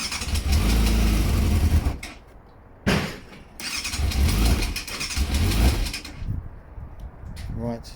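A non-running 1998 Yamaha YZF600R Thundercat motorcycle being started on choke, its engine catching in loud, rough bursts that drop out briefly and then run again, with the engine stopping near the end.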